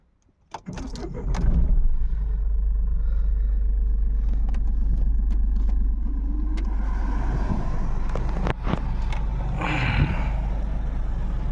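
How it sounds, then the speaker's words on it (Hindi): A 2025 Mahindra Bolero Neo cranks briefly and fires, then settles into a steady low diesel-like idle heard from inside the cabin, with faint clicks and rustles over the engine drone. "बाहर काफ़ी गर्मी है तो गाड़ी स्टार्ट कर लेते हैं, एसी चला लेते हैं"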